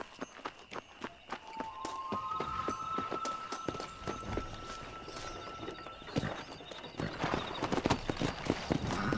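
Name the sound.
horse galloping, clip-clop of hooves, video game Red Dead Redemption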